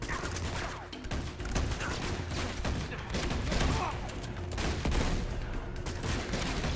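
Gunfire in the action game Uncharted 2: Among Thieves, a dense, continuous barrage of overlapping shots and impacts with a steady background rumble, loud and unbroken for several seconds.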